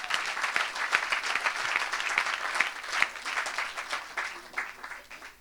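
A church congregation at a Sunday evangelistic service breaks into sustained, lively applause, many hands clapping together in a dense, even roar that fades slightly toward the end.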